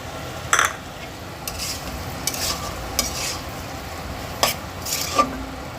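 Green chilies fry in a pan for a soya chilli dish, a steady low sizzle broken by sharp, intermittent scrapes of a utensil stirring against the pan, close and clear with no talk.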